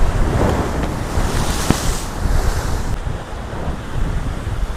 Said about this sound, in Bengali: ঢেউগুলো আসছে এত বড় বড় ঢেউ